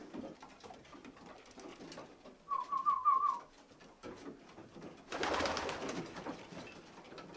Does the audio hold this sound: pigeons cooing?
yes